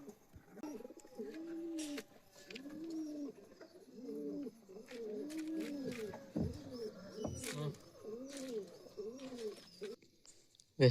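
Pigeons or doves coo nearby in a steady, repeating series of soft, low, rolling calls, with occasional clicks and knocks between them.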